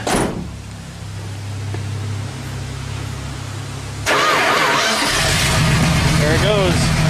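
A 1978 Dodge D100 pickup truck with a broken exhaust removed and its air filter refitted cranks and starts, a low idle rumble giving way to a louder, rougher running engine, with people talking over it.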